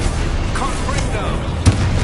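A Confringo blast spell explodes in the video game Hogwarts Legacy, one short booming burst near the end that stands out over a steady, busy game background.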